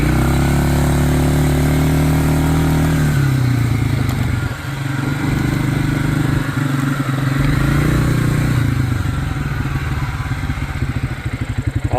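A 2010 Polaris 400 AWD ATV engine runs close by, loud and continuous, its idle settling lower partway through into a steady rumbling, slightly clattering putter.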